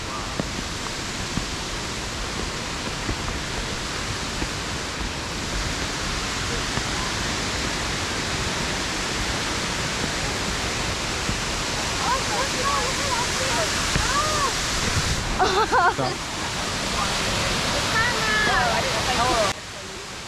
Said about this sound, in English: another beautiful waterfall on Mount Rainier, and that one is Martel Falls